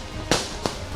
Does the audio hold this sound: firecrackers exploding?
yes